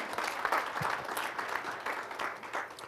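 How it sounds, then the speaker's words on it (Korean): An audience applauds warmly to welcome a guest professor to a university lecture, a dense, continuous clapping that swells and fades slightly throughout. "여러분 뜨거운 박수로 환영해 주시기 바랍니다"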